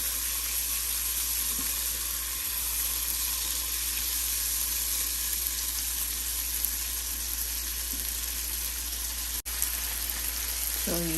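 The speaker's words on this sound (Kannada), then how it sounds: "ಸೊ ಈಗ ಇದಕ್ಕೆ ಚೆರಿ ಸೇರಿಸ್ತಾ ಇದ್ದೀನಿ. ಅದನ್ನು ಮಿಕ್ಸ್ಕೊಳ್ಳೋಣ." Chicken rice with cherries in a hot pan, giving a continuous loud sizzle and hiss of frying, with a few faint stirring knocks near the end and no talk.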